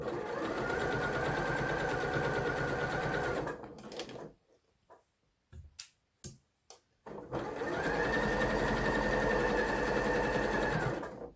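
A sewing machine stitches Hong Kong binding onto a fabric edge in two long, steady runs of whirring motor hum, broken midway by a few quiet clicks and handling noises.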